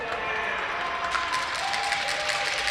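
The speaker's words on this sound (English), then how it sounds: "And you may think that everyone's applauding Patchy." Crowd applauding at a sledge hockey gold medal game during the Ontario Parasport Games as a team mascot appears, steady clapping with some cheering throughout, spectator voices mixed in.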